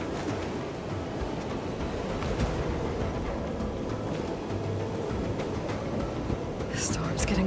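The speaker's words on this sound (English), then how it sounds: "The storm's getting bad." A thunderstorm in the video game Horizon Forbidden West, with steady rain hiss and low rumbling under a quiet voice, and some brighter rattling bursts near the end.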